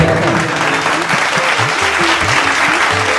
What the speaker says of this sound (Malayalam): നിങ്ങളുടെ കയ്യടി പോരാട്ടോ